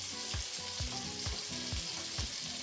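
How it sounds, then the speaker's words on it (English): Ground beef sizzling steadily in a hot pan, a loud continuous crackle with occasional stirring scrapes. "That sizzles nicely"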